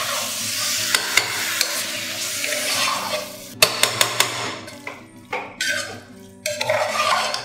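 A spoon stirs spices and minced mutton in a cooking pot, sizzling steadily while the utensil knocks sharply against the metal several times in irregular bursts, close and fairly loud.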